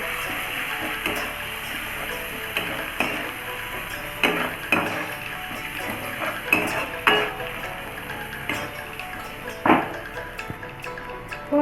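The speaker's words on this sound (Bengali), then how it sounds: "কাশ্মীরি লাল লঙ্কার গুঁড়ো হলুদ গুঁড়ো নিয়ে ভালো করে কষিয়ে নেব" Rohu fish being sautéed with Kashmiri red chili and turmeric powder, a low frying hiss under repeated clinks and scrapes of a spatula against the pan, close and busy.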